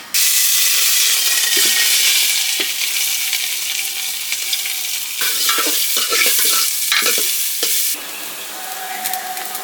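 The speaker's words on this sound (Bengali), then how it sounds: "আমি এলাচ, লবঙ্গ আর দারচিনি এই তেলে দিয়ে দিলাম। তেজপাতা দিয়ে দিচ্ছি, আদা দিয়ে দিচ্ছি।" Cardamom, cloves, cinnamon, bay leaf and ginger fry loudly in hot mustard oil for khichuri, a dense, steady sizzle with bursts of stirring scrapes throughout.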